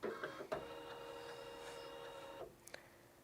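A Pfaff embroidery machine calibrating gives off a steady electronic whirring hum with a few clicks, lasting about two seconds before it stops, followed by a couple of faint ticks in a quiet room.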